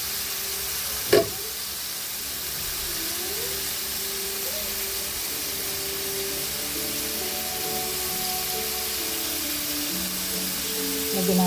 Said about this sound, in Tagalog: Igisa lang natin siya dyan. Para maalis yung kanyang medyo lansa ng liver.